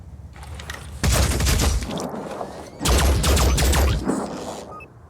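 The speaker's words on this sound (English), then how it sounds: "we've got a pure assault engaging a Synedrian assault, and he's triggered the return fire" Video game gunfire in a tactical combat battle: two loud, sustained volleys of rapid automatic fire, each lasting over a second, separated by a brief lull with faint mechanical clicks.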